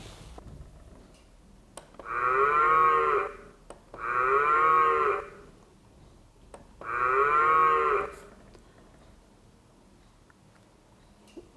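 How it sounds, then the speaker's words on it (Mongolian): Cattle moo three times, each a long, loud, drawn-out low call with pauses of quiet between them, close and clear with no talk. "Үхэр"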